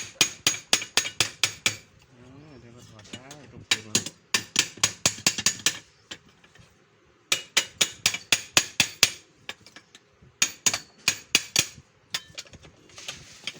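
A hammer strikes metal in quick bursts of sharp, ringing blows while a shaft is knocked out of an electric fan motor, with short pauses between the runs of strikes and a person's voice heard during a gap.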